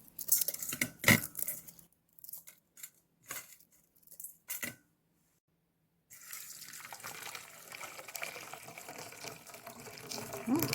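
Tap water running into a sink to soak dried seaweed cut with scissors, starting with short splashy bursts and gaps, then a steady continuous stream in the second half.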